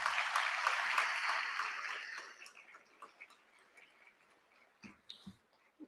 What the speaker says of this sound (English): Can we give them one big round of applause as well?